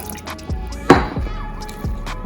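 Water trickles into turmeric salt fish fritter batter for a Jamaican-style recipe: a few separate drips and small splashes land close by, the loudest near the middle, with no talk.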